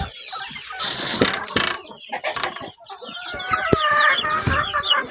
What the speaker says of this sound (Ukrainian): Отакий он петушок, а це курочка.